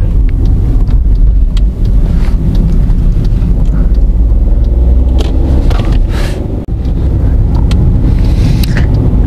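A small Hyundai i10 with a three-cylinder engine drives through town, its steady low engine rumble and road noise filling the cabin with wind buffeting, loud and constant with occasional faint clicks.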